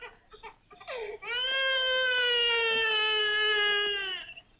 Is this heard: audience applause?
no